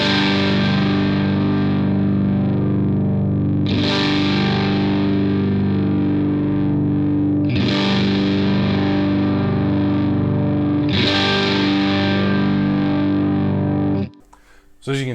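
Electric guitar through a Vox AC30C2 amp with the tone cut engaged gives a darker overdriven tone, with three strummed chords each left to ring for several seconds, loud and close, before a brief cutoff.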